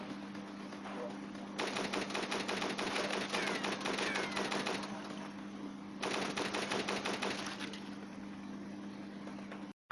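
Rapid automatic gunfire from the mobile shooter game Dead Trigger 2 rattles in two long sustained bursts over a steady electronic hum, loud and close.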